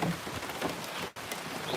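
Steady rain falls in a rainforest with an even, hissing patter throughout, briefly cutting out for a moment near the end before resuming.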